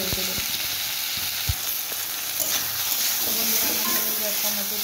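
Tomato sizzles and fries in a pan over a low gas flame, a steady close hiss and crackle with a few sharp taps of stirring.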